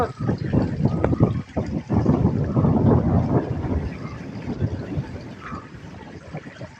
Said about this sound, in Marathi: एकदम गारगार वारं सुटलंय